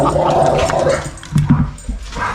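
Dogs growling and gnawing on a bone, low wet rumbling growls with chewing and gargly snarls, close and continuous, with a few short yips.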